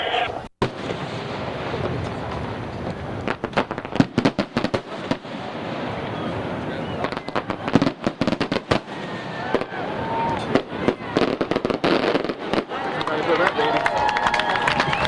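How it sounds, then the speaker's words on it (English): Three-break shell of shells with two reports at a 1996 Michigan fireworks convention in Muskegon: sharp crackling bursts and booming reports going off repeatedly, loud and near, amid crowd noise and voices. "up next, we've got a 3-break shell of shells. 2 reports."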